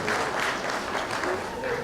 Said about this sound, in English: May we give them a round of applause, please.